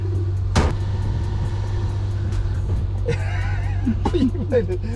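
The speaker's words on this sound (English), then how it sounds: "I don't think your clutch should be making noises like that." A car's clutch squeals and chirps over the steady low hum of an idling engine, with a sharp clunk near the start.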